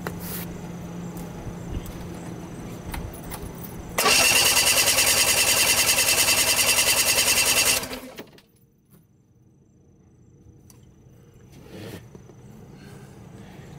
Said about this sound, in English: And now we're gonna crank it again.